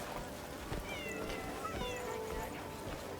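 A cat meows in the video game Crimson Desert, a couple of short plaintive calls over steady game ambience and background noise.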